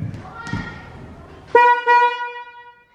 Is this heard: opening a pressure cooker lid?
no